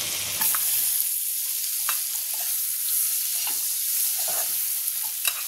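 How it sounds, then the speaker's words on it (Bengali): Onions frying in oil for a Bengali-style butter paneer, a close, continuous bright sizzle with a few faint clicks and scrapes from stirring. "পেঁয়াজটা ভাজবো।"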